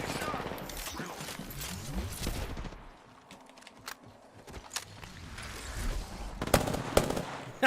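Rapid bursts of video game gunfire crackle in dense clusters, pause briefly, then return as scattered shots and further volleys under ongoing game noise.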